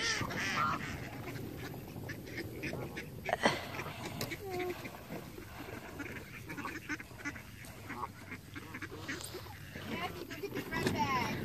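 Geese and ducks beside water call with scattered quacks and honks at close to moderate range, mixed with steady outdoor background noise while people talk over them throughout.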